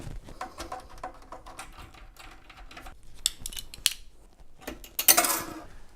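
Audio rack gear and metal cage nuts being shifted and handled in a studio rack, a scatter of small metallic clicks, scrapes and clanks ending in a sharper jangling clatter, nearby with no talking.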